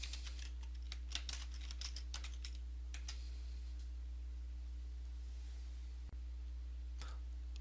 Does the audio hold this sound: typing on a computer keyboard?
yes